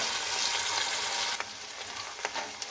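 Potatoes fry in hot oil seasoned with whole cumin, dried chili and bay leaf, giving a loud, dense sizzle that eases after a moment, with a few scraping stirs following.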